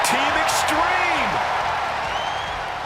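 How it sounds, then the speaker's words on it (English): Loud, sustained crowd ovation from an arena audience in the WWE 2K26 wrestling video game: a dense, steady roar of cheering throughout, with a voice talking over it. "this ovation's so loud"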